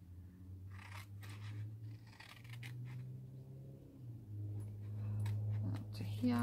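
Scissors cutting a corner out of paper for a small pocket treat holder, quiet close snips and crisp paper handling sounds over a steady low hum.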